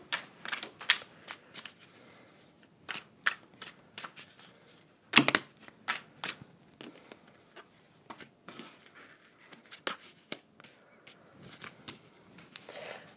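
Cards being shuffled and handled for a card reading, with irregular bursts of soft riffling and flicking, one louder snap midway, close and quiet with no talking.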